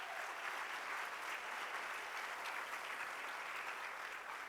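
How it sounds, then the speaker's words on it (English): Audience at the UTLA union leadership conference breaks into sustained applause, a steady, dense wash of clapping that fills the room with no voices over it. "let's give them a big round of applause."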